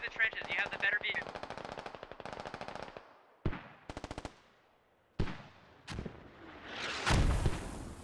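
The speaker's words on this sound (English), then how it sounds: "Here are some mortars going out." Gunfire in the military shooter game Squad, with rapid machine-gun bursts early on, then several heavier, sharper reports and a deep booming blast near the end, loud and close with gaps of quiet between.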